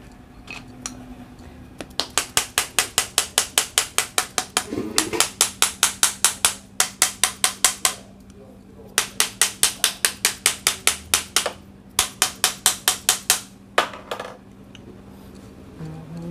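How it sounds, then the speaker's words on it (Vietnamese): Rubber mallet tapping a part loose in steady bursts of rapid, evenly spaced light knocks, several runs separated by short pauses, close and fairly crisp with no talk over them. "chúng ta sẽ dùng một cái búa cao su để chúng ta gõ nhẹ nhẹ nó ra."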